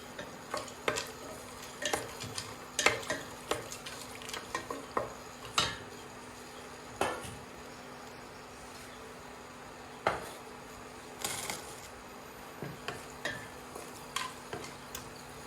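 Whole spices, including cinnamon, cloves, star anise and cardamom, are stirred in a pan for mutton biryani. Irregular light clicks and scrapes of a spoon against the metal pan repeat close by, with short pauses between them.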